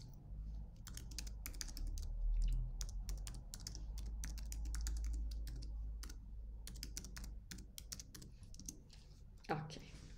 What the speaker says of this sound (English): and type your email address